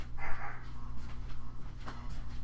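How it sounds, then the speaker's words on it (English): Dogs bark somewhere in a house during a craft session making greeting cards from napkins, a few faint, scattered barks over a low steady background hum. "now I got the dogs to barking"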